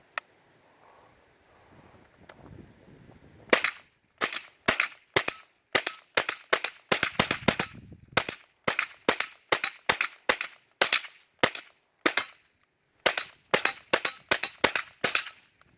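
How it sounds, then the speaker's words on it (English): Mossberg 715T semi-automatic rifle firing round after round in a rapid, slightly uneven string of sharp, loud cracks, about two dozen shots with a few brief pauses, heard alone outdoors after a short stretch of quiet wind. "every single round fired relatively quickly"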